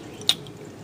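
A single drip of dechlorinated tap water falls through a home worm farm, one short, close plink over a faint steady background.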